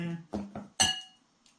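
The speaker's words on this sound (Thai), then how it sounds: "ขยับจานเราออกเอาถ้วยเรามา" Several clinks of a plate and bowl being shifted on a hard surface, a few quick knocks followed by a brighter ceramic clink that rings briefly.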